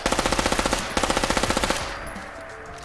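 Automatic fire from a modded gun in Fallout 4, two quick rapid bursts of evenly spaced loud shots close up, followed by a fading echoing tail.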